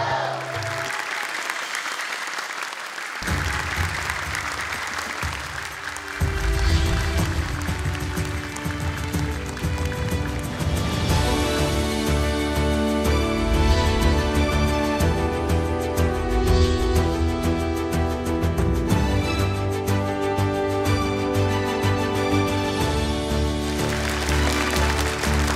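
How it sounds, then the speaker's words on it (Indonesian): A studio audience at the Hafiz Indonesia 2025 children's Quran recitation competition applauds the participants, with loud, sustained clapping and music playing underneath. "Silakan tepuk tangan untuk mereka."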